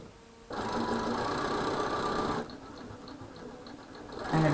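Domestic sewing machine running steadily as it stitches a border onto a star quilt, a continuous mid-level whir that stops briefly partway through and then resumes.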